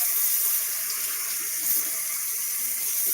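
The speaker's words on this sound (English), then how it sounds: "I'm going over here and I'm going to wash my hands." Kitchen tap water running steadily into a sink during handwashing while cooking a crockpot meal, a continuous close hiss with slight splashing and no talk.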